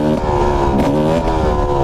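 A 2018 Gas Gas 300 supermoto's two-stroke engine revs hard and close, a buzzing, harmonic-rich drone that holds steady with a slight dip and rise in pitch.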